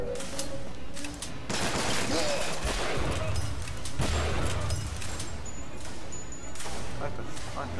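Rapid gunfire bursts and shotgun blasts from Bioshock Infinite combat, dense and continuous with sharp booms and crackling impacts throughout.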